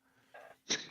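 A single sneeze bursts out sharply at the end of a short breath in, close and fairly loud, with no talking.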